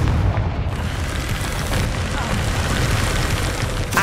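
Confringo blasting spell explosions in Hogwarts Legacy give a loud, rolling rumble of booms, with a sharp burst at the very end.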